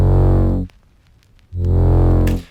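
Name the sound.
bass synth preset with added effects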